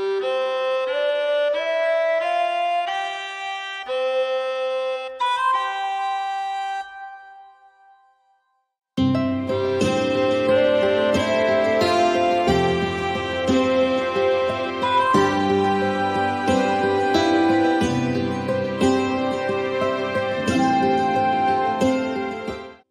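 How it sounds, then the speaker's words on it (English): An Emberton ivory flute layered with a free Waves Factory melodica carries a melody in an anime-style arrangement, first sparse and thin, then fading to near silence before a full, dense ensemble comes in and plays on steadily. "we get a very cool layer here by putting together this ivory flute by Emberton and a"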